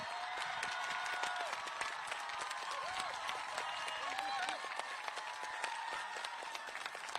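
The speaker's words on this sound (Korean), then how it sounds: "큰 박수를 보내주시기 바랍니다" A crowd of supporters applauds steadily at a South Korean presidential campaign announcement for the 21st election, sustained clapping filling the room under a voice speaking over it.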